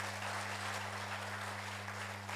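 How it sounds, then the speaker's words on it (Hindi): An audience at a Patanjali yoga gathering claps for one another: a dense, continuous patter of many hands, fairly distant, over a steady low electrical hum, with no talking. "ताली बजाइए जी एक दूसरे के लिए।"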